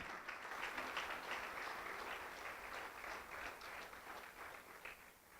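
A church congregation applauds together in steady, sustained clapping that fills the whole space, moderately distant and continuous, with no speech over it.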